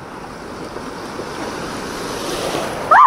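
Ocean waves wash steadily against the shore in a continuous, loud surf roar with wind buffeting the microphone, and a brief louder splash right at the end.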